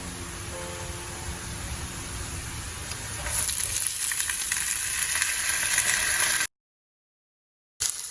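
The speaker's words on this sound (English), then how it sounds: "After adding the rice, I am adding salt." Rice sautéing with spices and golden-brown onions in a pan for chicken pulao, a steady close sizzle that grows louder and brighter midway, then cuts to brief silence near the end.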